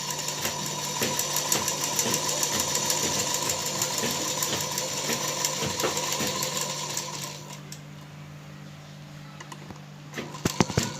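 A sewing machine runs steadily as it stitches around the neckline of a blouse, giving a close, fast mechanical whirring hum that slows and stops near the end.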